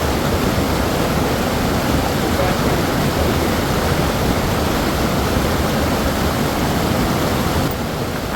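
Near, loud and unbroken, the falling water of Reid Waterfall in Skagway, Alaska roars as a dense white-noise rush, dropping slightly at the very end.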